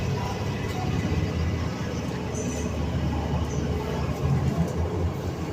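A London Underground tube train departs Edgware Road station, a loud, steady rumble and roar of wheels and motors that holds constant throughout, with a brief high whine in the middle.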